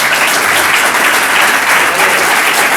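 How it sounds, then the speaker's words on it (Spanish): A crowd applauding at a podcast recording, dense continuous clapping that stays loud and even throughout the short burst. "Un aplauso para ellos"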